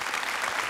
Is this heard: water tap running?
no